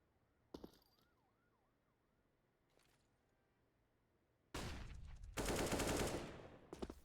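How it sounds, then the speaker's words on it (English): Gunfire in Counter-Strike on the Vertigo map: a couple of isolated sharp shots early on, then a sudden loud burst of sustained rapid firing near the end. "Nice shot as Undercover takes down 18."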